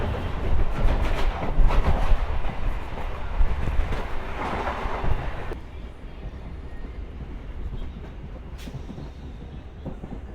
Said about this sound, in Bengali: আপাতত রানাঘাট গেদে লোকাল এসে পৌঁছলো তার প্রথম হল্ট, যেটা নাম হচ্ছে বঙ্কিমনগর।